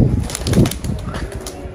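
A pigeon flaps its wings on a rooftop in a short, close flurry of soft beating, loud at first and then easing off, with no voices.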